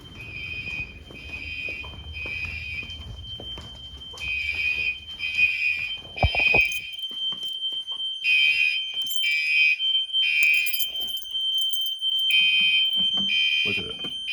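A new security system alarm sounds during a test, giving out loud repeating electronic beep bursts in a regular pattern. A brief clatter cuts in partway through.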